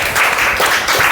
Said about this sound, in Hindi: ताली एक बार बजाइए छवि के लिए